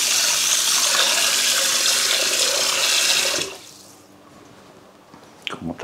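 Hot tap water pours loudly and steadily into a cooking pot for goulash for about three seconds, then the tap shuts off, leaving a quiet room and a few soft clatters.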